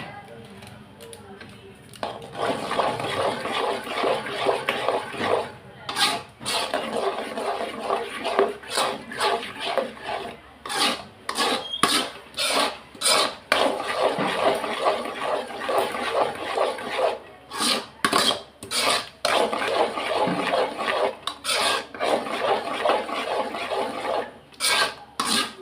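Kesari mixture made with kambu (pearl millet) scraped and stirred in a pan, giving a steady gritty rasping rhythm of repeated strokes that runs for the whole stretch, with someone talking over it.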